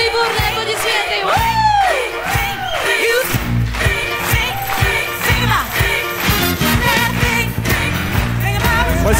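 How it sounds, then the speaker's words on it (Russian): A concert crowd at a birthday show for a singer cheers, whoops and shouts with applause mixed in, a loud, dense wash of voices and clapping with music-like tones running underneath. "бурный-бурный аплодисменты!"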